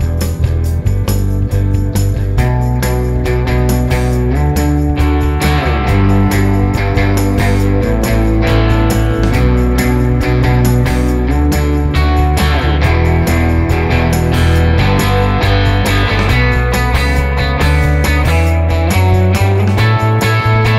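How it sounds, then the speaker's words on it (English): Electric guitar plays a simple riff doubled by bass over a busy drum track, dense and loud throughout the whole passage with no talking. "It's got a very simple riff, and I double it with the bass."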